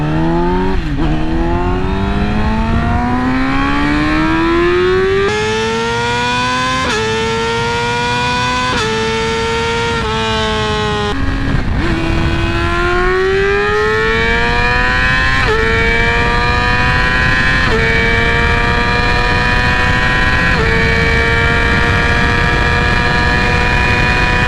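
A Yamaha R6 sport motorcycle with a freshly flashed ECU screams through hard acceleration pulls, its loud high-pitched engine note climbing steadily and dropping at each quick upshift, then winding up again with no talking.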